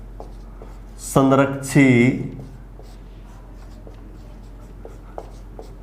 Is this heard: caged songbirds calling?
no